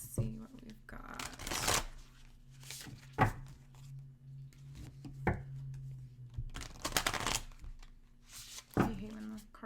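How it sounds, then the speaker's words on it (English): Oracle cards are shuffled in several separate riffling bursts with pauses between, close by, over a low steady hum and scattered soft thumps. "I hate when the cards don't shuffle right."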